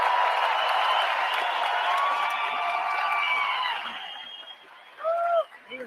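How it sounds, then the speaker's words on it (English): A rally crowd in Edmonton, Alberta, applauds and cheers for a World War II veteran, a broad sustained roar of clapping and voices that fades after a few seconds, followed by a short whoop. "A round of applause."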